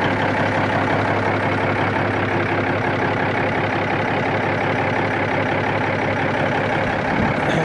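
An old vehicle engine, running for the first time in nine years, idles steadily and loudly in a driveway, a continuous low rumble with a faint rough pulse, close by and unbroken throughout.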